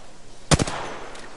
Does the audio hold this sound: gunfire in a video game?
yes